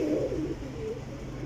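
A pigeon coos nearby with one soft, low, rolling call that fades out after about half a second, leaving faint background noise.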